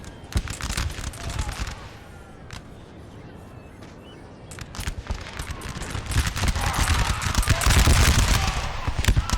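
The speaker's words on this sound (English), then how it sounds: "Thankfully, some good shooting by these troops." Musket volleys crackle in dense, overlapping bursts from massed troops in a Napoleonic Total War 3 battle, a steady rattle of gunfire that swells louder toward the end, with a voice heard faintly beneath.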